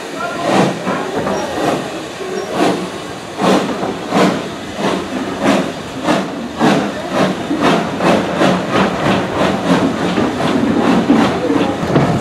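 A Severn Valley Railway heritage steam train pulls out of the station with a steady chuff and hiss, rhythmic beats of exhaust and clanking wheels heard from on board under a constant rumble.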